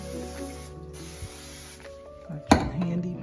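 A short burst of cooking spray hits a heated non-stick waffle iron in a kitchen, a brief close hiss near the end, after people talk.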